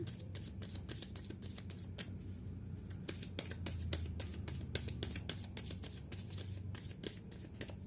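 Tarot cards are shuffled and drawn by hand, giving quick bursts of crisp riffling snaps and soft slides, close and fairly quiet, with short pauses between rounds.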